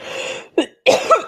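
A person coughs: one sharp, brief cough, then a louder double cough close to the microphone, following a few seconds of steady low room noise.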